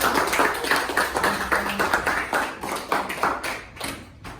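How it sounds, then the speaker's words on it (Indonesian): A classroom group gives dense, steady applause throughout, with many hands clapping at once at a moderate level and no talking. "tepuk tangan untuk kelompok 1."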